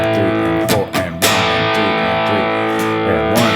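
Distorted electric guitar plays a riff, a loud, sustained overdriven line of bending, shifting notes with a few sharp pick attacks, heard alone without voice.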